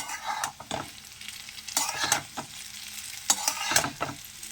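Boiled chow mein tossed with capsicum and egg in a hot pan: loud, close spatula scrapes and stirs over a continuous oily sizzle, in irregular bursts with no voices.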